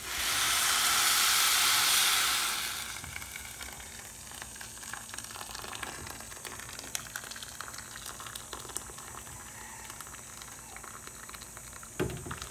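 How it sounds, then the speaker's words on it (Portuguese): Hot water from an electric kettle poured into a pot of rice, a loud rushing hiss and sizzle for the first few seconds, then fading into quieter bubbling and simmering with a brief clink near the end. "Agora, eu vou acrescentar a água quente."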